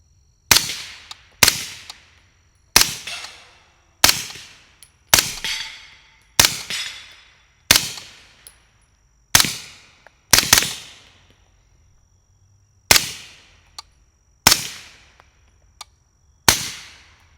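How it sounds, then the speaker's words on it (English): Suppressed SilencerCo AR9 9mm rifle fired through an Omega 9K silencer with Federal 150 grain synthetic rounds, a dozen sharp loud cracks at a steady pace with a short pause midway, each decaying quickly. "I can notice a little bit of a first round pop with the Omega 9K."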